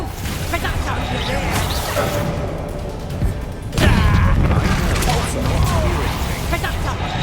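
In the Hogwarts Legacy video game, a Reductor spell blast bursts with a sudden loud crash partway through, amid continuous rumbling combat effects and overlapping voices.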